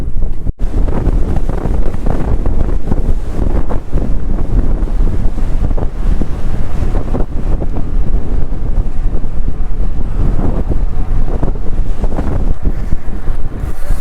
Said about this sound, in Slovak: Bohužiaľ proti vetru, takže veľmi sa na to neteším, bude to rovina proti vetru.